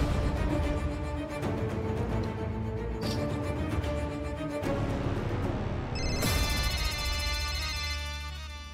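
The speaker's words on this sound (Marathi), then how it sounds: "कोणाचा फोन आहे?" A mobile phone ringtone plays a loud, continuous melodic tune in a home, shifting to a brighter phrase near the end, with no talking over it.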